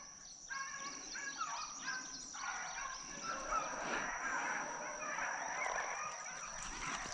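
A group of chickens calls nearby in a steady run of clucks and honking squawks that overlap throughout, with a high steady tone running underneath.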